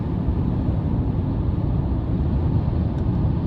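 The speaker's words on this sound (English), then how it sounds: "And has a nice rolling road noise." Steady rolling road noise from a 2024 Chevrolet Silverado Custom Trail Boss pickup with TurboMax engine on 20-inch wheels, a constant low rumble with no talking.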